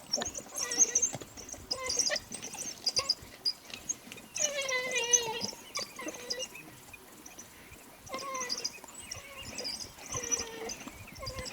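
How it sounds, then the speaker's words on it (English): Hungry wild dogs yelp, whine and squeal in high, excited bursts while feeding on meat, several animals overlapping at a moderate distance. "That is the sound of truly hungry dogs."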